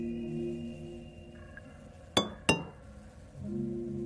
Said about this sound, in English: Tap the glass.